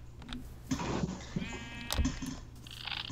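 A sheep in Minecraft, modded with Thaumcraft, lets out a wavering bleat over a low game hum, with a few soft clicks before and after.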